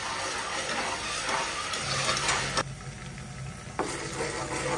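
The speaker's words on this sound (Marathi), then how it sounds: "कांदा आलं लसणाची पेस्ट थोडीशी अशी भाजून परतून घेतलेली आहे मी आता" Onion, ginger and garlic paste sizzles steadily in a pan while it is sautéed for a mutton curry. The frying hiss is constant and close, with a few soft stirring scrapes and no talking.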